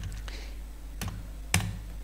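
A few distinct keystrokes on a computer keyboard during spreadsheet data entry, with a firmer, slightly louder press near the end like the Enter key, close and alone over quiet background hum.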